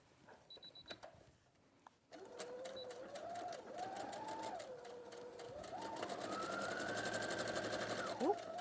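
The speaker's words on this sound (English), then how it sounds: "it's just stitching the seam allowance to the pocket bag" A domestic sewing machine runs in a steady rapid whir, edge stitching a seam allowance to a pocket bag on a dress, speeding up and slowing in bursts after a quiet start with faint clicks.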